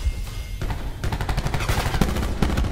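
Rapid gunfire bursts in a video game sound as dense, crackling volleys of close shots, loud and continuous across the short clip.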